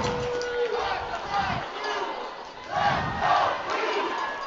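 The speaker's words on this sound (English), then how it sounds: "Crowd starting to get in to help their Queens players continue their momentum in the start of the second half." Rugby crowd at a women's university national championship cheering on Queen's players early in the second half, a steady roar of voices that swells toward the end, heard at a distance.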